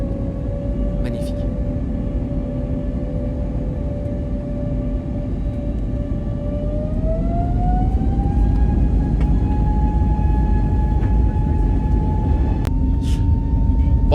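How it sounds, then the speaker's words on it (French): A Transavia Airbus A320neo's jet engines roar steadily on its first commercial takeoff to Porto, heard from inside the cabin, a sustained tone rising in pitch partway through as the aircraft accelerates and rotates, with a person talking over it. "J'adore le bruit de ce réacteur. Voilà, rotation. Et c'est parti."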